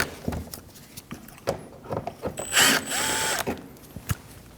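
Ratchet backing T25 screws out of a Volkswagen Passat bumper, with short bursts of close clicking pawl ratcheting and scattered metallic taps, a brief sharper rasp in the middle.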